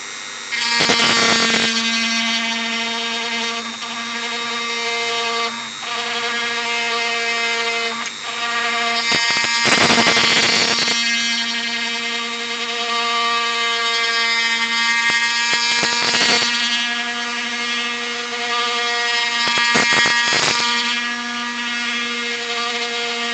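A power drill in first gear widening a hole in plastic, a steady whining motor hum with repeated louder bursts of grinding as the bit bites into the material.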